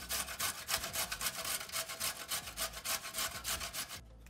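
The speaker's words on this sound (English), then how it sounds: "you're gonna wanna grate 3 medium to large size carrots, and then the same thing, 3 medium to large size parsnips on a box grater." Carrots are grated on a box grater in a close, rhythmic series of rasping scrapes, roughly three strokes per second, that stop just before the end.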